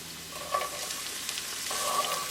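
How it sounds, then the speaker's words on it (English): Onion sizzles in a pan with garlic, a soft, steady hiss of frying with a couple of faint scraping stirs, close by and without talk. "Cooking onion for 3 minutes."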